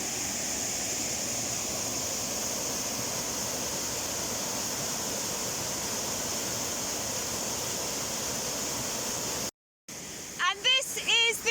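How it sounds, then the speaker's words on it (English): A steady, broadband roar of a waterfall fills most of the clip, near and constant, before it cuts out and a voice begins speaking. "I don't know how well you can hear me above the roar of the water"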